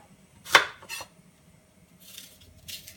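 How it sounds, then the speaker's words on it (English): An apple cut roughly with a knife on a board beside a small pan on the heat, giving one sharp chop and a lighter second one, followed later by a pair of soft scraping knife strokes. "I'm going to cut up"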